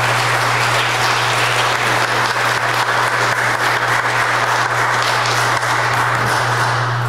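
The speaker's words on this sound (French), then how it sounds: "On peut les applaudir" Congregation applauding inside a church during a Mass for the musicians, singers and readers, a loud sustained roar of many hands clapping evenly throughout, with a steady low hum underneath.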